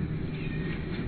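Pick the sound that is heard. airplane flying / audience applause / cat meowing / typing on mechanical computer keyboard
cat meowing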